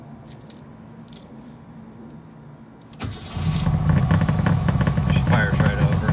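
A Saab car is cold started with the choke applied: after a few key jingles and quiet clicks, the engine cranks and catches abruptly, then settles into a loud, rough, steady idle close by.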